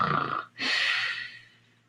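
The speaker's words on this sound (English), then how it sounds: "He was snoring loudly." A man snores loudly in his room, two heavy breaths close by: a rough inhaled snort, a short gap, then a long raspy exhale that fades out.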